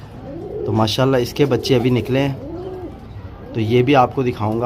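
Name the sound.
pigeon cooing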